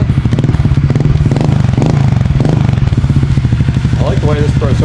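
Kawasaki KLX 110 big bore motorcycle with a Pro Circuit exhaust idling and revving up close, a loud steady engine drone with a deep pulsing exhaust note that lasts the whole time.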